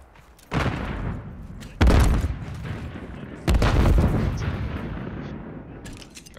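Gunfire in Call of Duty Modern Warfare 3 comes as three loud, separate bursts a second or two apart. Each one decays into a rumbling tail.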